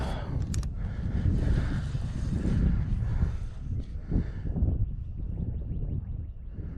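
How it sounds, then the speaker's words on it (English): Steady wind rushes and buffets against the microphone while fishing from a boat, a continuous low roar with gusts rising and falling, and no talking. "This wind is still, this is pushing my line when I throw it."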